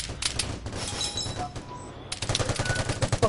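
Rapid bursts of gunfire from a gun in the video game Vigor, a dense run of automatic shots near and loud, a brief lull, then another sustained volley.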